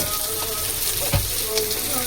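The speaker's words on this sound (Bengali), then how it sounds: "মশলাটা একটু ভালো করে ভাজা হয়ে গেলে" Ground chili, turmeric, coriander powder and salt fry in oil for a tilapia fish curry, giving a soft, steady sizzle with a brief stirring knock partway through.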